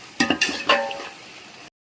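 Chicken pieces for dum biryani cooking in hot oil with masala in a pan, with a few clinks and stirring scrapes over a soft steady sizzle that stops abruptly.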